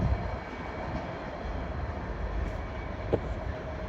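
A train pulls away from Doncaster station on the East Coast Main Line, a steady low rumble at moderate distance that continues evenly throughout, with no voices.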